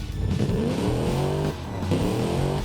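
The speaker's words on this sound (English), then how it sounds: "Ah, there's nothing quite like a good beefy sounding V8." A V8 engine in a car-building video game revs steadily, a loud, beefy roar with rising and falling pitch that dips briefly midway before climbing again, heard alone without any talk.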